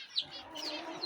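Hens clucking in a coop, a few short, quiet clucks and squawks close by with no talking.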